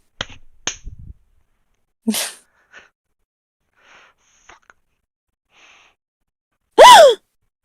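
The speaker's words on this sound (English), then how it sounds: "I'm interpreting that as a gasp." A short, sharp gasp from a voice in a recorded scene, loud and isolated near the end after scattered faint sounds.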